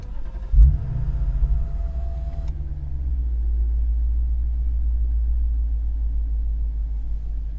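A Lexus ISF with its 2UR-GSE V8 starts at the push of a button, giving a sharp startup burst followed by a steady, loud low idle rumble that settles and carries on alone.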